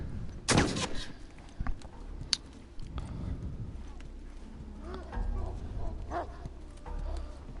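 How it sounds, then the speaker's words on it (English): A dog in The Last of Us barks a few times at mid distance, short sharp yelps among game noises and a loud thud near the start. A voice talks faintly in the background. "Okay, I hear a dog."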